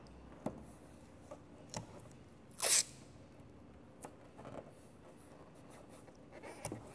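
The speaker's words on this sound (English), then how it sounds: "I'm going to put a piece of tape down so we can get a nice 50-50 difference of what we're going to polish." Green painter's tape laid down on a carbon car part before polishing, with one short tearing rip amid faint soft taps and handling noises in a quiet room.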